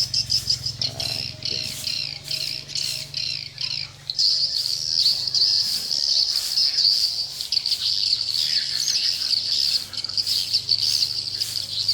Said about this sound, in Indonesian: kalau lagi rame begini burung walet